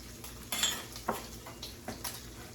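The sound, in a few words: onions frying and stirred in pan with bacon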